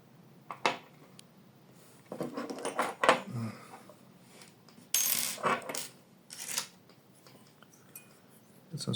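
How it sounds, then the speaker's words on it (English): Metal tools clink and scrape as a heater block is unscrewed from the radiator of a Sprite 3D printer extruder, giving sharp, scattered taps and rattles, close and fairly quiet, with short pauses between them. "Let's unscrew the heater block from the radiator."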